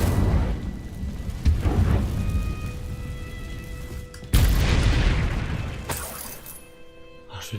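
A fire spell blast in Hogwarts Legacy bursts out as a loud, booming crackle with a shattering edge, followed later by a second surge, over a dense game soundscape with a voice speaking faintly.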